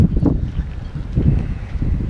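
Strong wind on the beach at Vendres, France, buffets and roars in gusty low surges against the microphone, loud and continuous without any voices.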